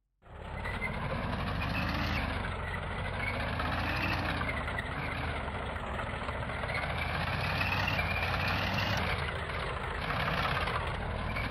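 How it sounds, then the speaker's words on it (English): A tank engine drives steadily in the Red Crucible Tanks video game, a loud continuous mechanical rumble and whine that holds at an even level, with slight pitch shifts, throughout and without any voices. "Your first objective is to drive your tank forward and over that bridge."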